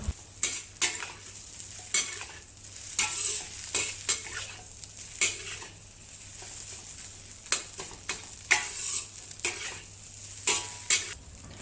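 Cooked rice stir-fried in hot oil with garlic in a pan for Japanese fried rice, a continuous close sizzle punctuated by frequent rhythmic spatula scrapes and tosses against the metal, with no talking.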